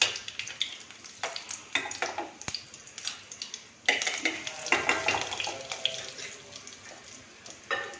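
Cumin seeds sizzling and crackling in a small amount of hot ghee, a steady busy frying hiss with scattered pops and occasional stirring clinks, close and moderately loud with no talk.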